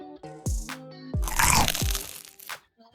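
Crunchy fried street food snack in Tai'an, China, bitten and chewed several times, each bite giving a loud, close, sharp crackling crunch, with a brief voice murmur at the start.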